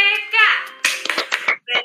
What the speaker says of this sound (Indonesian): Mari anak-anak, kita lakukan tepuk PPK.